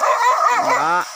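Dog during a wild boar hunt in Ujung Ladang, Solok, giving a single close yelping bark that slides into a whimpering whine, loud and alone.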